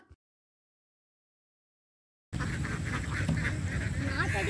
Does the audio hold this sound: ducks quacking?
yes